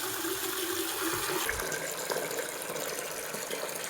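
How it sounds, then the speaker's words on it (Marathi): Water from a pump pours steadily into a container, a continuous loud rushing splash that holds the same level throughout, close by with no talking. "तुम्ही बघू शकता, याच्यात येत आहे पाणी."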